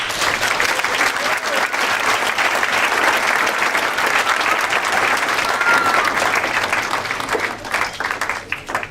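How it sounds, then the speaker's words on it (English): Sustained applause fills a community gathering, a dense, even wash of many hands clapping that continues strongly and tapers slightly near the end. "And Marsha deserves a big round of applause for that"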